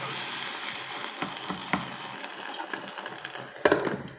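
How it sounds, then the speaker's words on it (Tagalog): Eggs fry in a pan with a moderate crackling sizzle, scattered pops and light utensil taps, ending in a brief clatter. "Tapos inuna muna natin iluto guys ng ating itlog."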